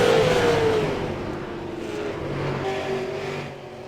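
Super Late Model race cars roar around a speedway oval, a loud engine whine that rises and then fades as the pack passes. A second engine drone swells again further back.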